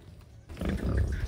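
Free-roaming Iberico bellota pigs on an open farm give low, rough grunts and snorts that swell after a quiet start and carry on close by in a steady mix.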